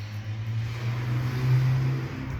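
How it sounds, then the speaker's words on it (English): Outdoor road traffic rumbles by as a steady low engine drone that swells and fades, a vehicle passing at moderate distance with no speech. "Sorry for the traffic outside."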